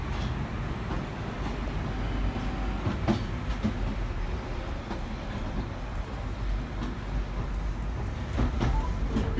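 A London Underground Northern Line train runs between stations, giving a steady loud rumble and roar with faint rhythmic wheel clatter, heard from inside the carriage.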